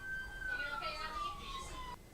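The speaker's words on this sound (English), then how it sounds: "she's in the ambulance, sirens blaring" An ambulance siren wails steadily at moderate distance for about two seconds, a single sweeping tone slowly dropping in pitch over faint background noise, then cutting off abruptly.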